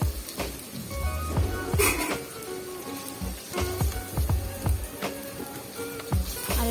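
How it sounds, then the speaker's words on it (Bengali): Tomatoes added to ginger-garlic paste frying in a pan for oats khichdi, giving a steady close sizzle and crackle with occasional clinks and stirring knocks throughout. "আমি টমেটো অ্যাড করে দিচ্ছি।"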